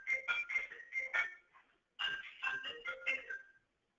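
A telephone rings with two short bursts of repeated electronic trills, separated by a brief pause. The ringing is fairly loud and stands alone.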